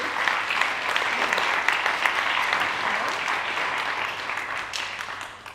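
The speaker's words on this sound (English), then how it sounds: "Round of applause for those." Applause at a student leadership awards ceremony greets the highly commended nominees, a full, steady round of many hands clapping that gradually tapers off.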